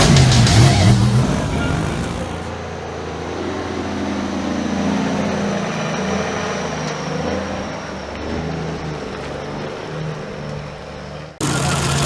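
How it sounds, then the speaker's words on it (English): A supercharged blower motor on the back of a race car rumbles with a low, uneven cackle, loud and close, holding a steady lumpy idle throughout. "The cackle of the big blower motor on the back of the Harrison logging entry."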